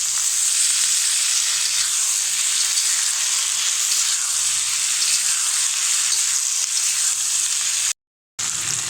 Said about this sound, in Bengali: সসটা দিয়ে দিয়েছি, এখন ভালোভাবে মিশিয়ে নেব।